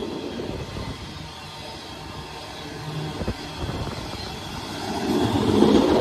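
A long, massive freight train rolls past at around 55 mph, a steady broad rumble and rattle of wagons that swells slightly toward the end, with no voices.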